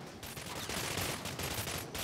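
Sustained automatic gunfire in the shooter game Anabiosis: Dream of Reason, a dense continuous burst of rapid shots with no pauses, fairly quiet in level and without speech.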